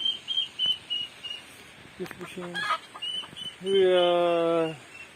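Chickens at a village weekly market cluck in short bursts, followed by a longer drawn-out call, while a person talks nearby.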